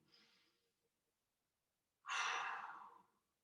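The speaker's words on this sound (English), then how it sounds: "And 1 more big breath." Deep breathing during a workout: a faint inhale at the start, then after a pause a loud, long exhale close to the microphone that trails off over about a second, with no talking.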